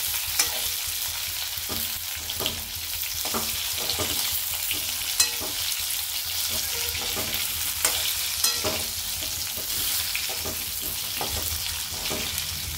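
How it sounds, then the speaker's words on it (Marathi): Stuffed brinjal stir-frying in a thick-bottomed pan, a steady close sizzle broken by repeated scraping and stirring clatters every second or so, with no talking. "हे पहा आपले वांगे मस्त परतलेत."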